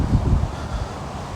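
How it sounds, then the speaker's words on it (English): Strong wind gusting outdoors in Orlando, a low rumbling buffet with rustling and microphone wind noise, fairly loud and steady throughout the short stretch with no talk. "it's still very windy here"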